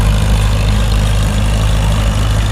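A truck engine idles at a tractor pull show, a deep, steady low rumble that holds close and loud without a break, with no voices over it.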